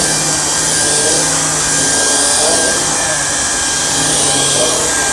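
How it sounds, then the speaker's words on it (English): Samsung Jet VS70 cordless vacuum cleaning carpeted stairs, a steady loud motor whine with airy broadband suction roar running unbroken throughout. "You can see how well this cleaner head is pulling dirt out of the stairs."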